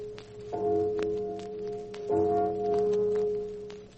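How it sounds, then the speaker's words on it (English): Two deep, sustained bell strikes, one near the start and another about halfway, each ringing out with a long humming decay over faint background noise. "why is the church bell tolling?"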